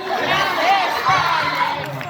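A large convention crowd at a My Hero Academia English dub panel at South Texas Comic Con cheers and shouts together, loud and sustained with overlapping voices.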